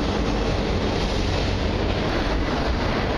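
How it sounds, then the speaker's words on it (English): A noisy train pulls in as a loud, unbroken rumbling roar close by, with no voices over it. "Now we're up here, the noisy train going."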